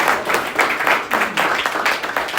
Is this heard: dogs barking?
no